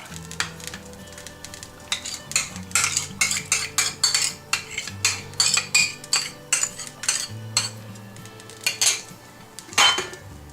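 Goat meat going into a pan for frying brings a close run of rapid metallic clinks and scrapes of utensils against the pan. A faint sizzle sits underneath, and no one speaks.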